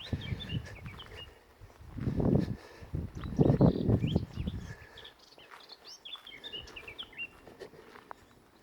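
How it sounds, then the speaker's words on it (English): Several birds chirp and tweet across a Cornish countryside field beside forestry land, high, scattered calls at moderate distance, while footsteps crunch and rustle loudly up close through the middle. "it's amazing how many different species of birds you can hear"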